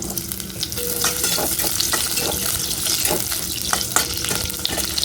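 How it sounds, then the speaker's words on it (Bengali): Potatoes frying in hot white oil in a wok, a steady close sizzle with scattered sharp clicks and spatula scrapes from stirring, no voices. "প্রথমেই আমি আলুগুলোকে ভেজে নেব লাল লাল করে"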